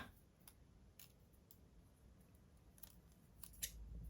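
Scissors cutting vellum paper make a series of quiet, crisp snips at irregular intervals, close by in a hushed room with no talking.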